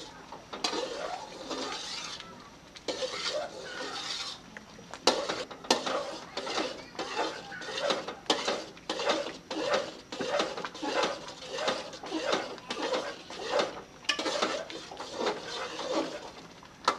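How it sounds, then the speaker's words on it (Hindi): A spoon scraping and stirring semolina milk halwa in a metal pot, a continuous run of rhythmic clinks and scrapes, close and busy throughout. "चम्मच को हिलाते रहेंगे"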